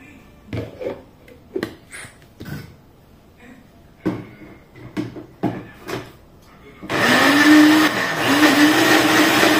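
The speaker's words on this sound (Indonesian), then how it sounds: "Saya blend aja kawan-kawan ya." An electric blender whirs loudly and steadily through the last few seconds, blending soto ayam ingredients with a little added water, after a stretch of scattered kitchen knocks and clatter.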